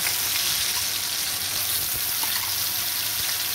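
Ground onion, garlic and ginger paste frying in a pan for home-style biriyani, a loud, close, continuous sizzle with a bubbling hiss throughout and no talking.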